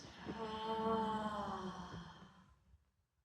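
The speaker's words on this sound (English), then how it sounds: "Breathing in through the nose and breathing out through the mouth." One long, slow breath pushed out through the mouth during a guided breathing exercise, soft and close, with a faint voiced, sigh-like tone that fades to silence.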